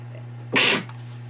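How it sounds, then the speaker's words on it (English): A single sharp sneeze from a person, short and loud, bursting out over a steady low electrical hum in a quiet room. "Sorry, I sneezed."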